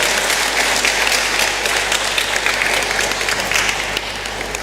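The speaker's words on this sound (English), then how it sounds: "A very big round of applause to His Excellency," Loud, dense applause from an audience in a main hall after a public lecture, honouring an ambassador, steady and sustained for several seconds with no speech over it.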